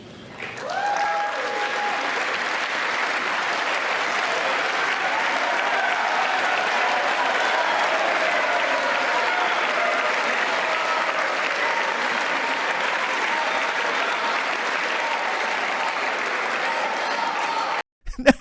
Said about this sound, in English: Did you hear the chant in the background?